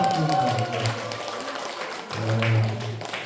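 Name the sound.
audience applause at a seminar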